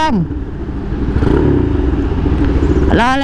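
A customized Yamaha Mio motor scooter fitted with a quick throttle revs up close by in a brief, loud accelerating whine that rises sharply at the end.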